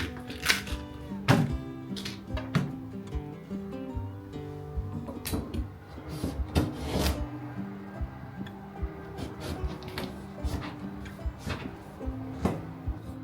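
Repeated crisp cracks and snaps of bamboo shoot skin being peeled, irregular and close, over a steady low background hum.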